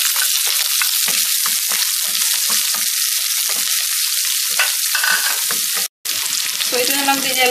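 Snake gourd and prawns for a curry fry in hot coconut oil with a loud, continuous close sizzle and scattered crackles and pops, with a brief break near the end.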